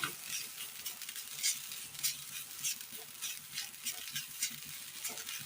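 Dry scraping and rustling as coconut is stirred and roasted until brown in a hot pan for a Kerala curry, with repeated spoon strokes over a soft sizzle.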